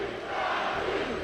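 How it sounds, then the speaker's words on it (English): A large crowd cheers and roars at the 2024 Pokémon Latin America International Championships, a dense, continuous wall of voices filling the whole moment. "Listen to this crowd."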